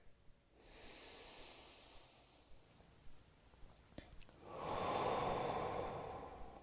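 Soft, slow breaths drawn in and let out during a seated yoga hip stretch, quiet and close, with a longer, fuller exhale toward the end.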